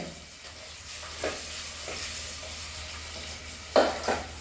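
Green chilli and onion sauté in a pan while potatoes are stirred through them. A soft sizzle runs under repeated spoon scrapes, and two louder clanks come near the end.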